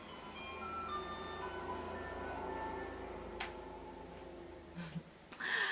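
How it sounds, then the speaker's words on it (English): Ice cream van passing by outdoors, its tinkling chime tune playing faintly and steadily in the background, joined near the end by a few soft clicks and handling noises. "Hold on, the ice cream car's"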